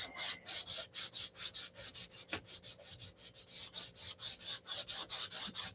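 Steady back-and-forth sanding on airplane hangar rash, a close, dry rasp repeated in quick even strokes, around two dozen in a regular rhythm with no voices.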